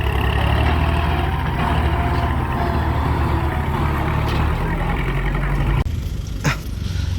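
A 15-year-old Kubota L3008 tractor pushing soil gives a loud, steady, close diesel drone that holds throughout, then dips briefly near the end before rumbling on.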